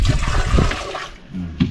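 A newly installed toilet in a house under construction flushes with a loud rushing gurgle of water that tapers off, heard alone without talk.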